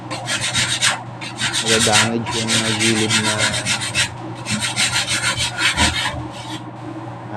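Sandpaper rubs back and forth along the edge of a wooden cabinet in steady, close, loud rasping strokes, with a few brief pauses and a voice speaking over part of it.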